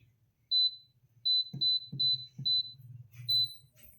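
An air fryer beeps as its power button is switched on: a single short electronic tone, then a quick run of several evenly spaced beeps, near and clear over faint background hum.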